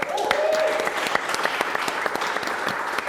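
Audience applause for the band, a steady burst of dense clapping that fills the room for a few seconds, with a brief voice heard under it near the start.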